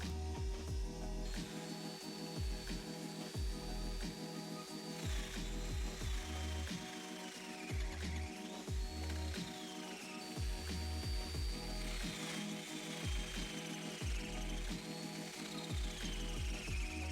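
A power tool cutting domino pockets in wood on a tabletop, with repeated short bursts of motor whine and mechanical chatter at a steady rhythm over a constant hum, followed by vacuuming of the pockets. The sound is fairly quiet and there is no talk.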